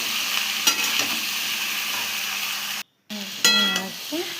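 Bengali-style mixed vegetables frying in a pan while being stirred, a steady close sizzle with a few spoon scrapes, then a brief gap before louder stirring resumes.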